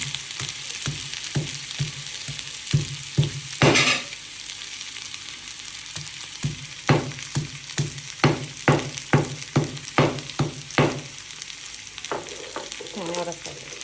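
Garlic sizzles in a pan for zunka while a spoon scrapes and stirs it in regular strokes, a constant frying hiss running under the close, sharp clinks.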